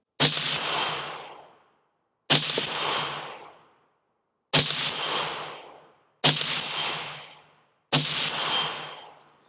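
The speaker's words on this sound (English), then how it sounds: "Let's go ahead and shoot the still target at 100 yards" Five sharp rifle shots fired at a still target 100 yards out, each a loud crack with a ringing tail, spaced about two seconds apart with silence between.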